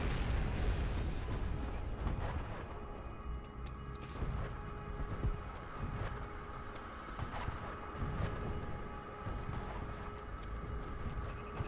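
Artillery explosions in the World War II shooter game Call of Duty: World at War, a dense, continuous barrage of booms and rumbling bursts that stays loud throughout, layered with gunfire and battle noise.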